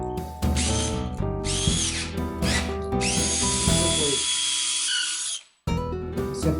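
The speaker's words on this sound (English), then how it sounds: "After drilling the hole and locating the penetration below" A power drill bores a hole through an oak floor, its loud whining motor rising and falling in pitch with bursts of grinding, then cutting off abruptly near the end before starting again.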